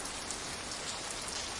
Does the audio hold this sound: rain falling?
yes